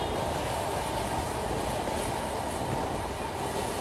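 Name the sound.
Sundarban Express passenger train running on rails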